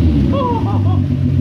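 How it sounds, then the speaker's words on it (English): A Toyota Supra engine running with no exhaust fitted gives a loud, steady low rumble that fills the whole moment, with faint higher tones riding over it. "And it has no exhaust on it, so it sounds a beast."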